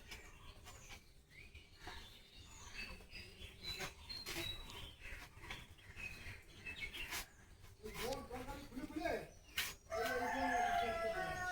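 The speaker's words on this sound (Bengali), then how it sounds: "তো দেখো পাশের বাড়ির মুরগি ডাকছে" A neighbour's rooster crows in a kitchen setting, with a couple of crowing bursts standing out near the end over background clatter and faint talk.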